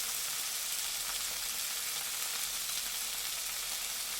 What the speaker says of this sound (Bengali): রসুনটা একটু ভেজে নেওয়ার পরে আমি ওর মধ্যে শাকটা দিয়ে দিলাম